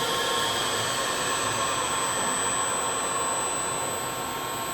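An Amada SSR-5 CNC rotary surface grinder's spindle winds down in a machine shop: a loud, steady, broadband whir with high whining tones that eases slightly toward the end, with no talking.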